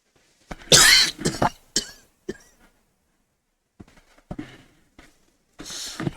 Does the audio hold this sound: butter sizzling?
no